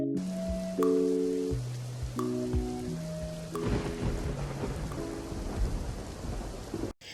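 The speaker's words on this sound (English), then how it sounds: "It was a rainy day, too wet to go outside." Steady rain falls with several deep rumbles of thunder rolling through, a continuous close downpour with repeated low booms and no voices.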